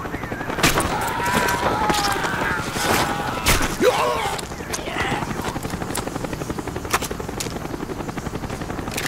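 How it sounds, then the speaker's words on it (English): Helicopter rotor chop in Call of Duty Black Ops thrums steadily throughout, mixed with bursts of gunfire and loud game effects, with some voices briefly audible. "The chopper is coming around again."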